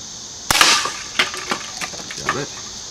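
A Daisy Powerline 35 BB gun shoots Daisy BBs at plinking targets: one sharp loud crack, then several lighter ticking impacts and clicks spaced across the moment.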